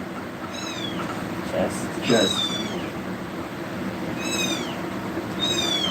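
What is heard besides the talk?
loud kittens meowing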